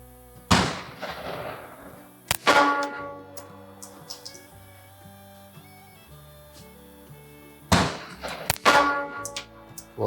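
Handgun shots fired at a target ring out as sharp, loud cracks, a few in the opening seconds and more near the end, separated by a quiet pause with faint echo.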